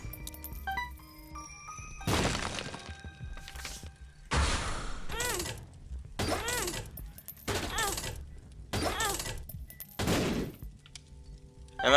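Several loud, booming blasts burst out one after another at irregular intervals, each a sharp broadband crack with a rumbling tail, explosions in The Binding of Isaac: Rebirth.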